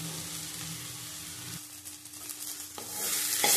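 Radish chhechki stir-fried in a pan while its water cooks off, giving a soft, steady sizzle with faint stirring; the hiss grows louder toward the end.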